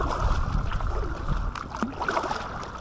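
An Aquaglide Chelan inflatable kayak is paddled hard against the river current on the River Aire: steady rushing water and wind buffeting the microphone, with a few soft paddle splashes, close and continuous.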